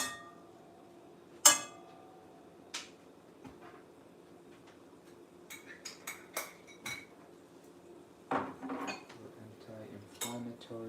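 Turmeric being stirred into a pot of shrimp, lentils, chickpeas and mixed vegetables, with sparse metallic spoon clinks and pot knocks separated by quiet gaps, close and fairly soft.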